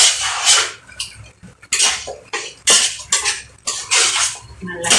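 Meat for biryani is stirred in a pot with repeated metal scraping and clanking. The spoon strikes the pot in loud bursts with short pauses between.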